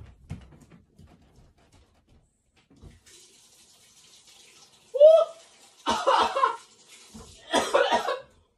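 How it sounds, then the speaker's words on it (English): Tap water runs into a sink as someone washes their hands, arriving in several loud close splashing bursts after a near-silent stretch, with a brief vocal sound and some breathy noises mixed in. "Me wash my hands real quick."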